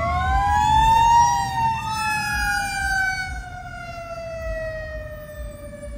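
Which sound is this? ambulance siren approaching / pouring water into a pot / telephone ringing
ambulance siren approaching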